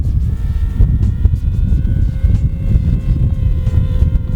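A DJI Spark selfie drone flies at full speed through gusty wind, its thin propeller whine faint above heavy, rumbling wind buffeting the microphone that dominates the sound.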